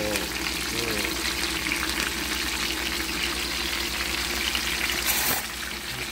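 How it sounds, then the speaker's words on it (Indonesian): Eggplant fries in hot oil for a spicy balado dish, giving a steady, dense sizzle and crackle that holds at an even level for several seconds before easing slightly near the end. "Nah, terongnya habis dapat nyuci digoreng dulu."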